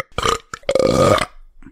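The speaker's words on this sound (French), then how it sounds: "Parce que j'ai besoin de roter." A person lets out a loud, close burp, then a long drawn-out one, followed by a faint short sound.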